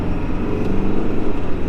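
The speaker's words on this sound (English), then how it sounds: "Oh, love the sound of that turbo." A 1992-1997 Ford F250 diesel pickup accelerates onto a highway, its engine pulling hard with a steady, loud low-frequency drone and a faint turbo whistling whine on top, continuous throughout.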